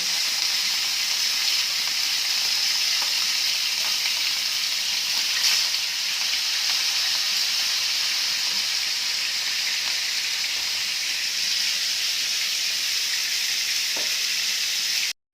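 Food sizzles steadily in a hot pan, a continuous bright crackle with no talking, holding even throughout.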